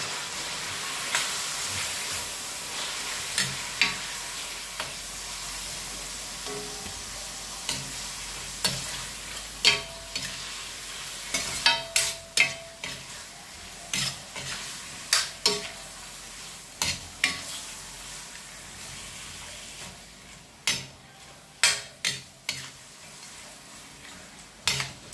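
Pancit sotanghon glass noodles stir-fried in a pan, a soft continuous sizzle broken by repeated sharp spatula scrapes and taps, in clusters over a long stretch.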